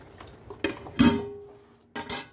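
A metal lid is set onto a pot of home-made Afghani chicken biryani, giving a few close, sharp clinks and clanks of metal on metal, with one louder ringing contact in the middle.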